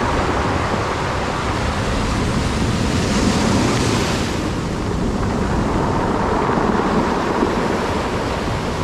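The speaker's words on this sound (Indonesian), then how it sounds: "Saat ini pun ombak cukup besar di Pantai Pidaan" Large ocean waves surging against a rocky beach at Pantai Pidakan in Pacitan, a steady loud roar of surf with wind buffeting the microphone throughout, no voices.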